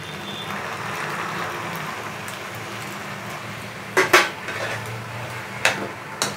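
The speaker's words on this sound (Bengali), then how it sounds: "দিয়ে একটু নাড়াচাড়া করে নিচ্ছি" A utensil stirs vegetable pasta in a pan with a steady scraping rustle, broken by a few sharp metallic clinks against the pan near the end.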